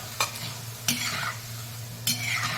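Sago flakes frying a few at a time in oil over a low gas flame, a soft steady sizzle broken by three sharp stirring scrapes of a spoon in the pan.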